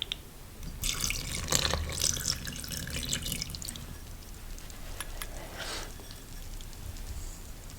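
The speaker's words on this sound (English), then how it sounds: "we're just going to add the rest of our milk" Milk poured into a bowl of flour and tangzhong for Japanese milk bread, a close, steady liquid splash and trickle lasting a few seconds, then fading to quiet drips.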